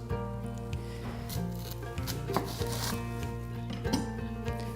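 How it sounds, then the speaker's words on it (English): Knife slicing an onion in half through the root on a chopping board, a few close crisp cuts and taps over a steady background of music. "Cut the onion in half through the root."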